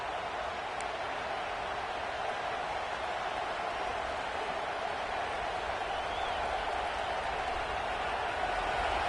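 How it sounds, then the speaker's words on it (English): A large stadium crowd roars steadily, a dense wall of cheering and noise that stays loud and unbroken throughout. "It's early, but this crowd is fired up. Listen to this noise here."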